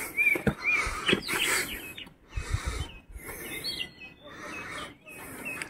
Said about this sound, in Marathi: इथं बॅकग्राऊंडला आहे ना पक्ष्यांचा आवाज आहे,